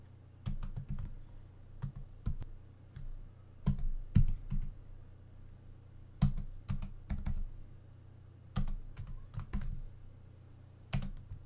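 Code being typed on a computer keyboard: bursts of crisp key clicks in uneven clusters with short pauses between, close and fairly quiet over a low steady hum, no talking.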